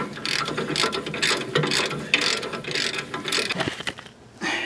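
A ratchet tightens the emergency brake bolts on a Nissan Frontier pickup, rapid clicking pawl bursts repeating up close in quick, uneven strokes.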